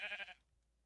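A sheep in a video game gives one short, close bleat that cuts off abruptly into quiet.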